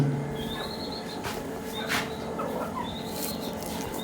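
Soft chicken clucks and a few short calls, faint and at a distance, over low background noise.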